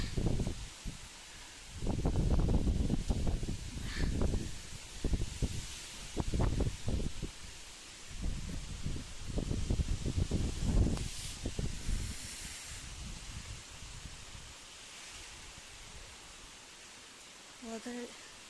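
Heavy rain keeps pouring outside during Cyclone Fengal, a steady broad hiss heard throughout with a voice talking over it in pulses, the rain carrying on alone as the talk fades.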